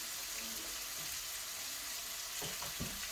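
Vegetables and mushrooms sautéing in a pan outdoors at a farm, a steady bright sizzle throughout with a few soft stirring scrapes near the end.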